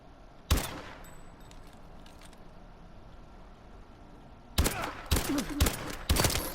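Pytaek rifle fire in Call of Duty Advanced Warfare: one sharp shot, a quiet stretch of game ambience, then a rapid burst of several close, loud gunshots, with no talk.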